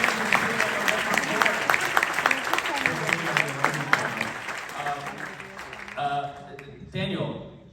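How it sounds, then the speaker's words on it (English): Audience at a film premiere Q&A applauding: clear individual claps over a crowd wash that thins out toward the end, when voices take over. "Let's give a big round of applause for the Roku channel"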